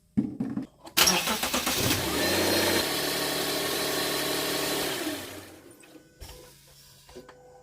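A 2012 Subaru Outback 3.6R engine cranks with quick whirring turns, catches and revs up, then settles into a steady idle before fading, heard up close after an oil change.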